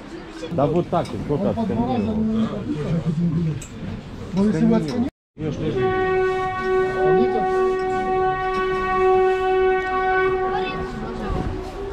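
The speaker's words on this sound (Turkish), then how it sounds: "Tren geliyor. Tren gelecek birazdan ve bineceğiz." Crowd chatter gives way to a train drawing near on a mountain railway in the Caucasus, Russia, its long steady horn blaring loudly over rumbling wheels as voices continue underneath.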